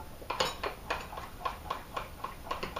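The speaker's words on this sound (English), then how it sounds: "just combine it with the spoon till all the" A spoon stirs sugar in a bowl, producing a steady series of light scraping clicks in an even rhythm, close and fairly quiet with no talk.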